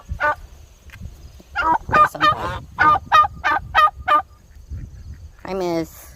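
Turkey on a farm calling in a quick series of about eight short, loud, honking gobbles close by, followed after a pause by one longer, rising call.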